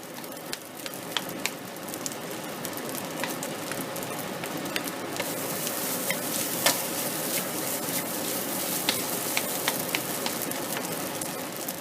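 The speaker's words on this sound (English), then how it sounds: "once you stir it around to make sure that soy sauce gets into the whole dish and not just part of the dish" Fried rice with soy sauce stirred through it crackles in a hot pan, a steady dense sizzle with scattered sharper pops running throughout, no voices.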